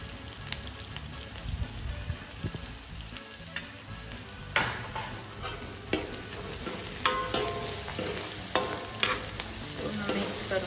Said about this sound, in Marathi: कांदा शिजवून घेऊ। कांदा शिजायला थोडा मीठ टाकतो।